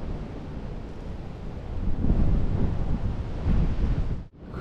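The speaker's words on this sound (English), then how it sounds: "Crazy windy out there." Strong wind roars and buffets the microphone outdoors, a steady rumbling rush that swells and dips, briefly cutting out near the end.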